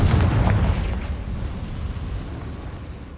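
Confringo blasting spell in the Witch Simulator video game, a single loud booming explosion at the start that rumbles and decays over a few seconds, heard alone.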